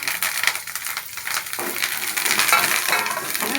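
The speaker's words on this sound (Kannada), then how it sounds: "ಚೆನ್ನಾಗಿ ಫ್ರೈ ಮಾಡ್ಕೋಬೇಕು." Dry red chilies and curry leaves fry in hot oil for puliyogare, giving a loud, close crackle and sizzle with uneven pops and a spoon stirring in the pan.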